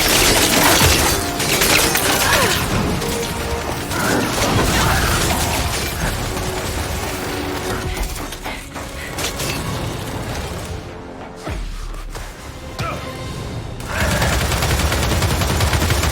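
Mounted turret gunfire in the video game Gears 5, a loud sustained barrage of rapid automatic shots with booms and mechanical clatter, briefly dropping around the middle before resuming at full intensity.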